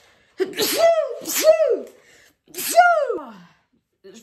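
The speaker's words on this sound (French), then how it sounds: "Attendez, je vais éternuer." Three loud, close sneezes in succession, each with a sharp intake and explosive burst, separated by brief pauses.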